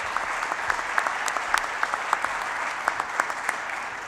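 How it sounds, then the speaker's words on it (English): Audience applause at a rural caucus gubernatorial debate, a steady wash of many hands clapping at moderate distance with scattered sharper individual claps, continuing evenly throughout. "Please give them a round of applause."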